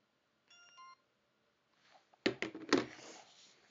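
Mobile phones from a collection are switched off: a short series of electronic tones first, then after a pause a few sharp clicks and rustles of handling, close and quiet, with no talk.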